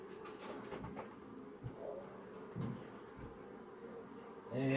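Honey bees buzzing around an open hive during an inspection of a second colony, a steady close drone with occasional bumps and handling noises, no talking.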